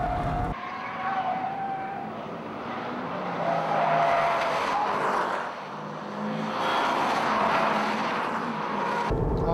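A Subaru Impreza or Mitsubishi Lancer slides its rear out on a race circuit on worn tires, the engine roaring loud and close while the tires squeal and skid in long surges.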